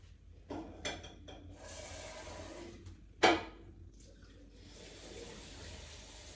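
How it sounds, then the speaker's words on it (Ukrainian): Water runs from a tap in a hotel room, with a few knocks and handling sounds around it and one sharp clatter partway through before the flow steadies again. "Так, наберемо воду."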